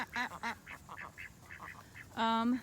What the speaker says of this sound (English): Hi ducks